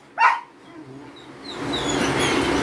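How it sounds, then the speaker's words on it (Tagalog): A single sharp bark from a pet dog nearby, followed by quieter shuffling and faint background noise. "nakadidistract yung mga aso ko"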